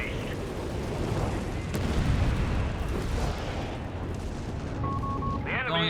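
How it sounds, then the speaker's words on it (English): Artillery barrage in Company of Heroes 3, dense rolling booms and crumps layered into a continuous battle roar, with a voice talking over it. "Another Strucker's barrage here."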